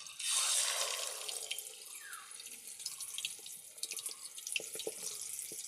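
Food lowered into hot oil in a kadai sets off a sudden bright sizzling hiss that fades into a softer, crackling fry, with scattered pops and spits close by.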